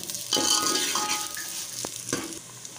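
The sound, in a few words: onions frying in a pan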